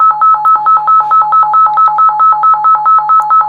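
A Retevis RB48 PRO camping two-way radio plays its call tone, a phone-like electronic ring that repeats as a steady, even warble of about fourteen bursts. The tone is loud and close, with no voices.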